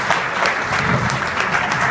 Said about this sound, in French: je vous demande quand même à tous de bien vouloir l'applaudir